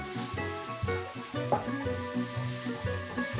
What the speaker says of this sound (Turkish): Şimdi sarımsakları da içine ekliyorum. Kavurmaya devam ediyorum.